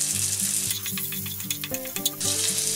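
Chorizo sizzling in a pan as it releases its oils, a steady close crackle and hiss running throughout with no talk.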